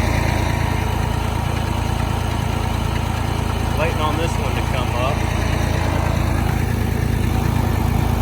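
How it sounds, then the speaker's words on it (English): Steady mechanical drone of an air compressor hooked to a tractor runs throughout, loud and continuous, with someone speaking briefly over it. "the compressor finally showed up. Got it hooked to the tractor."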